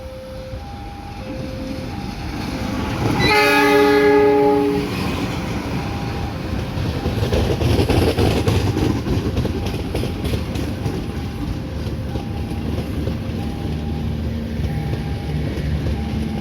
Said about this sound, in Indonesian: Kereta api Argo Wilis, relasi dari stasiun Bandung untuk tujuan dari stasiun Surabaya Gubeng.